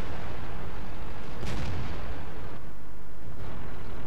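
Tank cannon shot from a JT88 tank destroyer in World of Tanks, aimed at an IS-3 heavy tank: one loud, booming blast about midway, then a rumbling decay under steady battle noise, with a fainter thump near the end.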